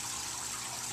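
An indoor home aquaponics pump runs water with aeration, giving a steady, continuous trickling and bubbling wash of sound at a constant moderate level.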